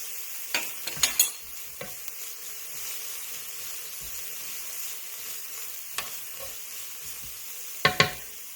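Garlic for a slow cooker chili cooks in a pot, a soft, steady sizzle running throughout with a few sharp clinks and taps of a utensil against the pot, close and without talk.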